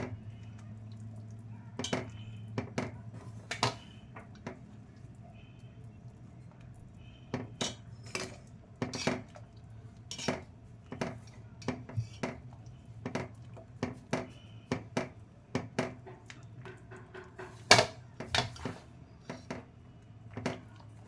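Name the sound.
stirring gram flour mixture in a pot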